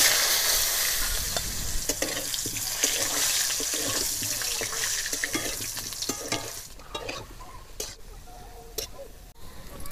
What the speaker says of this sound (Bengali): এবার আমি আলুগুলোকেও হালকা করে ভেজে নিচ্ছি।